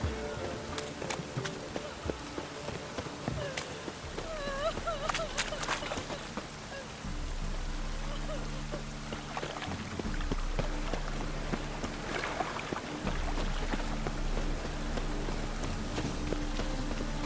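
Steady rain patters in the video game The Witcher 3: Wild Hunt, over a dense, continuous background, with low droning tones and faint scattered chirps mixed into the wash of noise.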